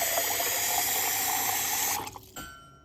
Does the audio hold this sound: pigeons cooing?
no